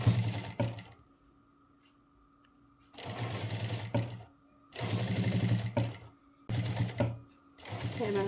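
A sewing machine stitches a blouse slowly in several bursts of close, rapid mechanical whirring, separated by quiet pauses.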